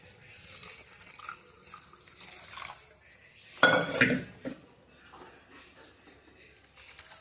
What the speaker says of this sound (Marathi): मी थोडंसं पाणी ॲड करत आहे